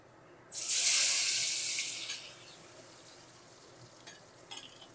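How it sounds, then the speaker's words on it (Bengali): Ridge gourd pieces dropped into hot mustard oil burst into a loud, bright sizzle that gradually fades to a quieter fry, with a couple of faint utensil scrapes afterward. "এই তেলের মধ্যে আমি ঝিঙেগুলো ভেজে নেব।"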